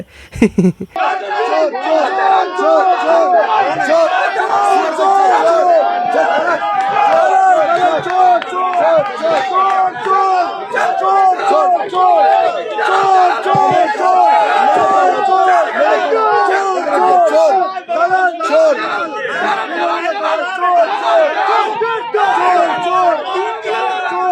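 A large crowd at a Bengal election gathering chants 'chor chor' (thief), a loud, dense and continuous roar of many voices shouting together without a break.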